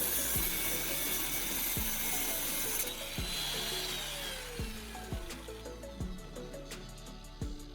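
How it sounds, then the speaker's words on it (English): An angle grinder cutting an edge into a steel rake gives a continuous close, harsh grinding whine with repeated dips and surges in pitch as the cut progresses. "I'm using a grinder again to cut an edge on the rake at the marked position."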